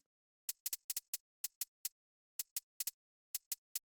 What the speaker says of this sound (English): basically what we got here is we have like a closed hi-hat